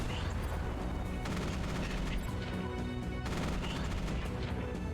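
Mechs trade rapid gunfire with enemies in the Mech Armada roguelike video game, with dense, continuous bursts of shots and impacts layered over a steady game soundscape.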